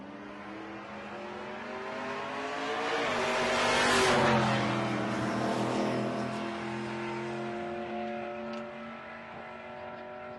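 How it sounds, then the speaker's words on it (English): An orange Fox-body Ford Mustang drag car accelerates hard, its engine roar climbing to a loud peak near the middle, then easing off as it pulls away, with no voices over it. "there he is right there doing the thing with the orange Fox Mustang they call the Knapsack"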